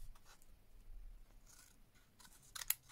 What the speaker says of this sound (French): Pour celui-là, je vais couper 3 pétales.